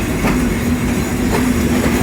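A train runs near Ishwardi railway station, loud and close, with rhythmic clickety-clack of wheels over rail joints and a sustained droning hum.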